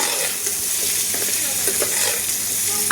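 Ginger garlic paste dropped into a hot frying pan, giving a loud, dense hissing sizzle that holds steady throughout with a few faint clicks, heard alone.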